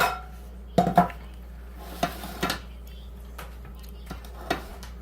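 Metal kitchen utensils and bowls being shifted aside on a counter while baking lemon blueberry muffins, giving a few sharp clinks and clatters spaced a few seconds apart, close by in a quiet room.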